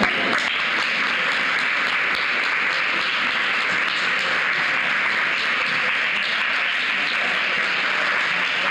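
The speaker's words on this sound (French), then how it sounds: "Applaudissons-les." An awards ceremony audience claps steadily in a dense, sustained round of applause that fills the room without pause.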